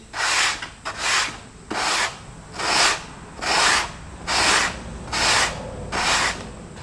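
Soft foam leading edges of an RCPowers F-18 model plane kit are sanded by hand in eight even, regular swipes, each a close, breathy rasp separated by brief pauses.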